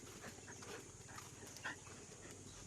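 A dog pants steadily with a faint whimper, close and quiet against a constant background hum.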